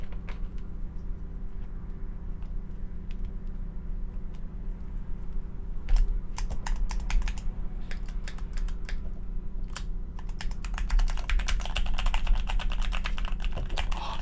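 Keys clack on a newly built mechanical computer keyboard, scattered at first and then in fast continuous typing bursts over a steady background hum, with no talking.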